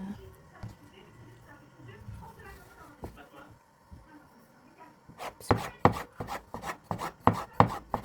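A knife chops through thin, floured, rolled dough for homemade erişte noodles, giving a quick run of sharp, close cuts on a board after a stretch of quiet talk.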